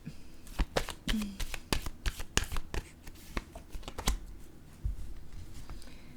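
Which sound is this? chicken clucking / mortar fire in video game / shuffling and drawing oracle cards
shuffling and drawing oracle cards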